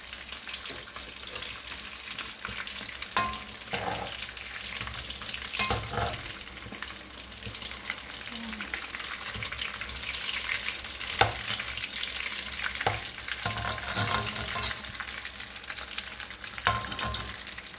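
Shrimp ukoy fritters frying in a pan: a steady close sizzle with occasional clicks and scrapes of stirring, and no one speaking.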